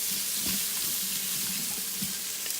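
Onions searing in an electric pressure cooker on its sear setting, a dense, continuous hiss and sizzle with faint stirring knocks underneath, close and steady throughout.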